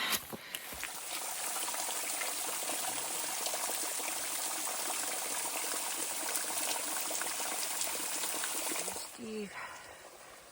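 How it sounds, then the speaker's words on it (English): Water being filtered out on the Appalachian Trail between Franklin and Fontana Dam: a loud, continuous rushing trickle fills nearly the whole stretch, and a voice is heard briefly. "filtering some water. This is what we do."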